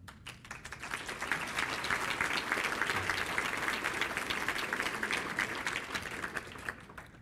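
Audience applause fills a hall during a mayor's 2018 State of the City address for Waterloo, a dense, steady clapping that holds evenly for several seconds at moderate distance, with no speech over it.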